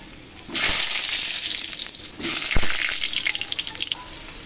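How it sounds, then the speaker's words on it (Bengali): Potatoes hit hot oil in a pan with a sudden loud sizzle, then a second burst, followed by crackling and a few stirring knocks as the frying continues close by. "আলু কটা ভেজে নেব।"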